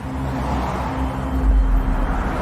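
Road traffic with cars passing, a steady low rumble of engines and tyres holding at an even, fairly loud level throughout, with no voices.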